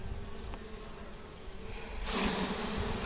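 Honeybees buzzing around an apiary during spring hive work, a steady insect drone that swells louder near the end as bees come close.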